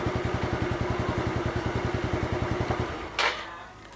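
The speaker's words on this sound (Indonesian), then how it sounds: "Oke, motor sudah hidup." A motorcycle engine idles with a steady, rapid thumping rhythm close by, then a brief clack near the end as the running note cuts off and fades.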